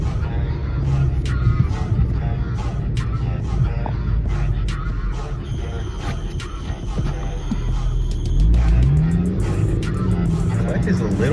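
A 2006 Honda Civic Si with a worn clutch and a rebuilt transmission pulls hard through its gears, the engine droning loud and steady inside the cabin, with a brief rising whine near the end and a voice talking over it.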